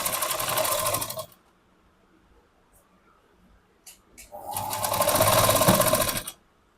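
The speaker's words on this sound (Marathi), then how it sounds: "1/2 इंचाची शिलाई द्यायची." A sewing machine stitches a blouse seam in two loud, steady whirring runs of about a second each, separated by a quiet pause with faint handling noises.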